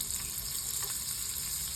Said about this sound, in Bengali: ফ্রাইং প্যানটা গরম হয়ে গেছে, এবার আমি একটু বাটার দিয়ে দিচ্ছি এর মধ্যে।